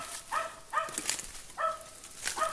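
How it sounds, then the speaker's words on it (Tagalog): A dog barks outdoors, four sharp barks spaced unevenly over a couple of seconds, fairly close and moderately loud against a soft background hiss. "Tumatahol na guys."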